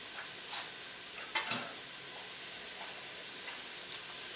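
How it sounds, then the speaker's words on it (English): Mushrooms, onion and garlic sizzle softly in a pan while a utensil stirs them, a faint steady frying hiss broken by a few sharp clicks of the spoon against the pan. "And I don't want to burn my onion and garlic, so I just want to keep it moving in here."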